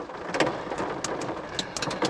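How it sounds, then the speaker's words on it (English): Steady rain falls during a thunderstorm, a dense hiss with scattered sharp raindrop taps and a low rumble underneath, no speech. "as soon as it quits thundering and lightning and the rain slacks up a little bit"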